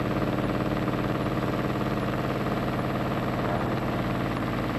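An Il-2 ground-attack aircraft's piston engine running at normal operating revs, a dense, steady low roar that holds constant throughout with no pauses, loud and close.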